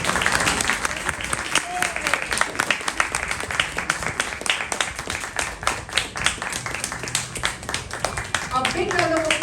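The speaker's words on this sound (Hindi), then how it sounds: "A big round of applause for the children." An audience claps for children after their performance, a full round of brisk, dense applause at close range that carries on throughout, with some voices mixing in near the end.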